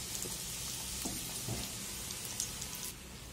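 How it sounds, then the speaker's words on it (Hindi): Stuffed pockets shallow-frying in oil until golden, an even dense crackling sizzle with scattered pops, quiet and continuous throughout. "अच्छे तरीके से गोल्डन होने तक हम इनको फ्राई करेंगे एक साइड से।"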